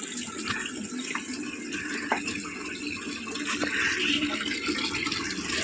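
Water runs from a tap while fish are being cleaned, a steady faint splashing stream with scattered small knocks and clatters, no talking.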